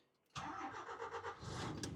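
A DAF truck engine, converted from a tractor unit to a dump truck, cranks and catches after a brief quiet moment, then settles into a steady, fairly loud rumbling idle with a slight rise at the end.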